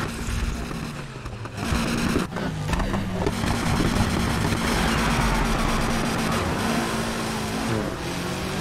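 A car engine roars and revs continuously while racing off-road across sand in Need for Speed Heat, its steady droning note shifting as it accelerates over a loud, rumbling bed.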